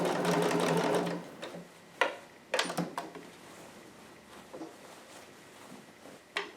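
A home sewing machine stitches fabric in a fast, buzzing run of about a second, then stops, followed by scattered clicks and light handling sounds as the sewer adjusts the cloth.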